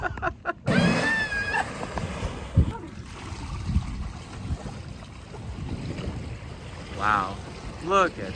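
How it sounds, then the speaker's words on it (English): A boat driven by a Gardner engine runs with a steady low mechanical drone and broad wash of noise, while excited voices and brief breathy bursts come and go over it outdoors on the water. "It's a Gardner engine."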